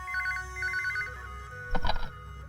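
An old-style telephone bell rings in two short bursts of trilling rings at a police inspector's office in a South Indian film, followed by a louder clattering handling sound, with no voices.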